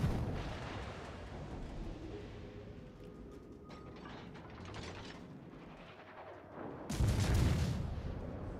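Armor-piercing shells fired in World of Warships: Legends: low, rumbling naval gunfire with mechanical clanks, faint at first, then a heavy boom near the end.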